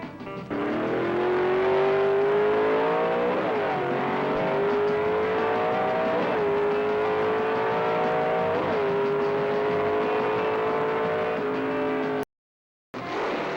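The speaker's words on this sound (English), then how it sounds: "Watch Len go through those gears." A 1964 Ford Thunderbolt stock drag car roars down the quarter mile, its engine climbing in pitch, dropping briefly at each gear change and climbing again through several shifts, loud and steady before cutting off abruptly.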